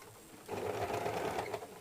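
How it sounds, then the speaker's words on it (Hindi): A sewing machine runs in one short, steady burst, stitching blouse fabric with a half-inch seam allowance, its close mechanical whir following a brief quiet start. "आधा इंच का दबाव डाल के इसकी सिलाई इस तरीके से कर लेनी है।"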